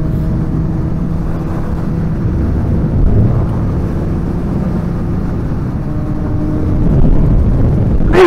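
A Suzuki GSX-S750 motorcycle engine idles and runs at low revs, a steady close mechanical drone that swells slightly near the end.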